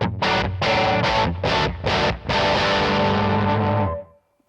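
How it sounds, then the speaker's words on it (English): Distorted electric guitar crunch through a Yamaha THR amp with the master volume at full, a few loud strummed chords with brief gaps, then a long sustained ringing chord that cuts off. "If I now crank the master up to full"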